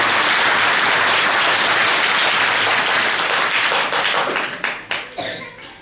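An audience at a Marathi lecture on Chhatrapati Shivaji's ideas breaks into loud, dense applause that rolls on steadily, then thins into scattered claps as it fades out.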